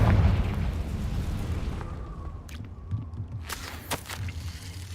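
A Confringo fire spell explodes in Hogwarts Legacy with a heavy, booming burst at the start that rumbles on, followed by a couple of sharper crackling pops a few seconds later.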